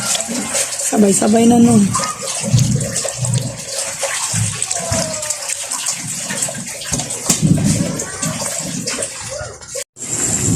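Water pours into a cooking pot in a home kitchen, a continuous splashing gush running beneath frequent conversational speech.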